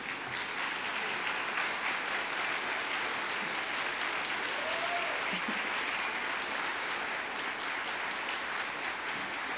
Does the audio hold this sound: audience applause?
yes